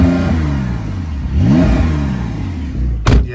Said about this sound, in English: So if you press the sport response button, you get maximum attack for 20 seconds.